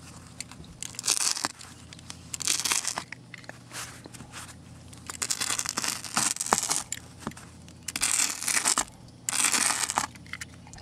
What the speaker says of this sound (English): What if we were to rip them down the middle?